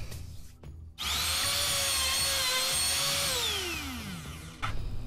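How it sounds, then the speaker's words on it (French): A handheld router trimmer makes a test cut while a bass guitar is being built. A brief click comes first, then the motor spins up to a loud, steady high whine for about three seconds and winds down with a falling pitch. "On bloque bien la défonceuse. Et on fait un premier essai."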